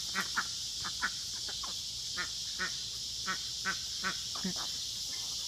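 Ducks quack in short, evenly spaced bursts of several calls over a steady background hiss, moderately near and fairly quiet, with no talking.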